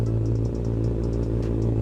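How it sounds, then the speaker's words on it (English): A 2025 Kawasaki ZX-6R four-cylinder motorcycle engine idles steadily, a low even hum with a faint ticking rattle on top, close and continuous. "I'm gonna let you guys hear the sound of this bike. So idling noise first."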